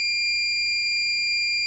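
The audible alarm of a hospital line isolation monitor, a steady, piercing electronic tone sounding continuously and loud with no pauses or voices.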